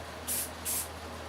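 Two short, close bursts of glue spray hiss onto the back of a clock piece during assembly, each lasting a fraction of a second against a quiet room.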